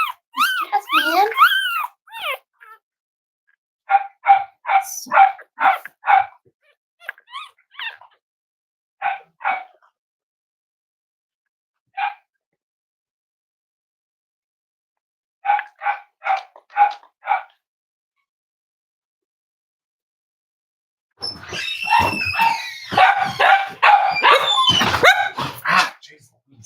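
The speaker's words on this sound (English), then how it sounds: "Ah, jeez, these dogs." Dogs barking at a puppy litter's home, with a whimpering yelp at the start, then quick bursts of regular sharp barks separated by silences, ending in a dense, loud flurry of overlapping barks and yips.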